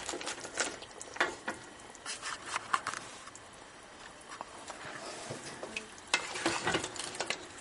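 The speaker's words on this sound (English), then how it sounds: "I'm going to stir the pot." A spoon stirs roux in a gumbo pot with crab and shrimp, giving soft, irregular scraping and sloshing strokes close up with a faint sizzle underneath and no talking.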